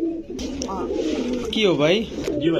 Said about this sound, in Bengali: গোল্লা পক পক করে ডাকে ভাই।